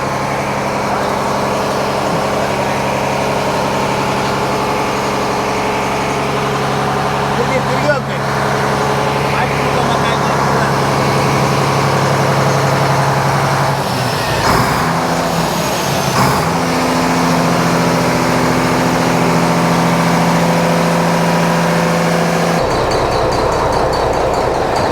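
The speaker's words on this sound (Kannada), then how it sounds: "ಈ ಶಿಪ್ಪಿನ ಇಂಜಿನ್ನು ಇದೆ, ಎಷ್ಟು ದೊಡ್ಡದಾಗಿದೆ ಕೆಳಗಡೆ" Large ship engine running below deck in the engine room of a deep-sea fishing vessel, a loud continuous low droning hum with steady mechanical tones throughout, a burst of clatter midway, with voices talking over it.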